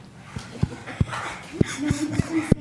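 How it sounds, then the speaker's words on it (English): Axel, an energetic adoptable shelter dog, lets out a string of short sharp barks at a fairly steady pace, with breathy panting between them, close by in an indoor meeting room with some murmur of people behind. "That's an energetic dog."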